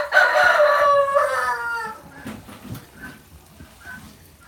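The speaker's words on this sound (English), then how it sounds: "those two roosters need to stop" Two roosters on a farm during morning chores; one loud, close cock-a-doodle-doo crow that trails off, followed by softer clucking and rustling.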